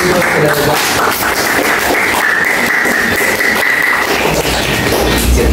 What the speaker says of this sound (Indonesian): Ya boleh tepuk tangan dulu.